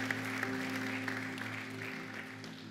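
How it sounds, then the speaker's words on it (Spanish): A church congregation applauds during a Spanish-language sermon, soft and somewhat distant, over a steady low hum. "por favor, un aplauso"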